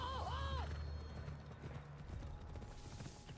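Hooves clip-clop and a horse whinnies briefly near the start in Assassin's Creed Odyssey, the game's ambient sound and speech-like voices continuing underneath.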